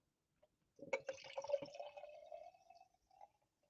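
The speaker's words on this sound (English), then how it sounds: "Let's pour that for now." Castle Island Fruit Zoot sour ale with grapefruit pours into a glass at close range, a gurgling stream rising in pitch as it fills, then a few trailing drips before silence.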